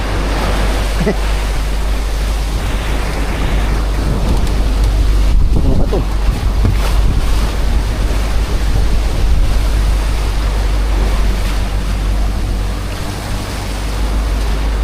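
Ocean waves and strong wind on the open Pacific during the southwest monsoon, heard from a boat as a steady loud roar of surf and wind buffeting the microphone, with a person speaking briefly over it.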